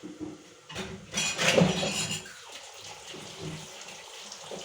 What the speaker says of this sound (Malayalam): കുറച്ച് പാത്രങ്ങൾ മോറാനുണ്ട്